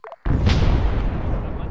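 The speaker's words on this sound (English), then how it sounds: "Fucking explosion." Artillery shell exploding in the military video game Arma 3, one sudden loud boom after a brief moment of quiet, followed by a long rumbling decay.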